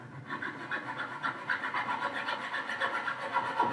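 Hand saw rasping back and forth through a wooden top turned on a lathe, quick rhythmic strokes close up at moderate volume, no voices.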